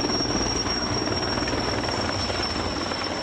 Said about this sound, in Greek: Ελικόπτερα τους βοηθούν με ρήψεις από αέρα.